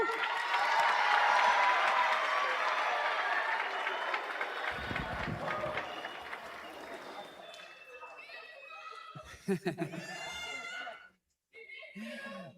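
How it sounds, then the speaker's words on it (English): A graduation ceremony audience claps and cheers loudly in a large hall, a dense, sustained roar that gradually fades, followed by a close voice speaking over the thinning applause. "Let us clap it up for Mr. Vaca."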